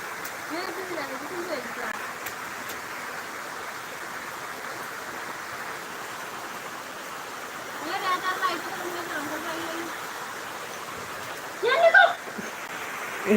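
Rain falling after a long dry spell, a faint, even wash of hiss throughout, with a voice briefly heard in the background.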